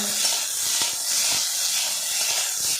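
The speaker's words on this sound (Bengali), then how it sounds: "এগুলো হালকাভাবে নাড়াচাড়া করে ভেজে নেব।" Tomato, garlic and ginger pieces fry in a pan while being gently stirred, giving a steady, close hiss of sizzling oil with faint soft stirring knocks and no talk.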